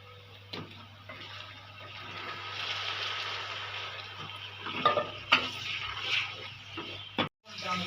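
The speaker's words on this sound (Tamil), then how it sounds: "இப்போ நம்ம தக்காளி போட்டு போகிறோம். தக்காளி போட்டுக்கலாம்." Tomatoes being added to sautéed onions in a pan for a fish curry, giving a steady sizzle with stirring scrapes and occasional clatter, close up, with a low hum underneath.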